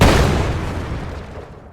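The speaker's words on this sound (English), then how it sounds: "That sounds like explosion 2." A single explosion sound effect from a digital game under design, a loud booming burst at the start that rumbles and decays over about a second and a half.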